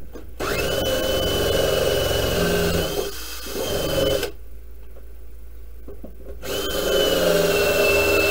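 A power drill with a 7/8 inch bit whines steadily as it bores into wood for a bee swarm trap, pauses briefly, then spins up again, loud and close.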